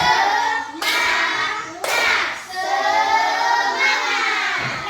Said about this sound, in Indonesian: Sekali lagi, tepuk semangat.